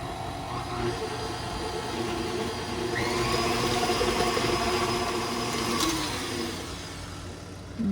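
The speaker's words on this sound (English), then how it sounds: "I'm going to mix that on a low to medium setting until it is all nice and incorporated" An electric mixer whirs steadily through cake batter for orange chocolate cake bites on a low to medium setting, its motor hum swelling slightly partway through before settling.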